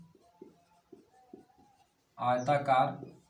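Chalk taps and strokes on a board while a maths problem is worked, four or five soft, evenly spaced marks, followed by someone speaking.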